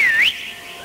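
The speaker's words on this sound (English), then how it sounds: "Whistle." A single short whistle tone that slides down then up in pitch, sharp and near, fading into a brief faint tail.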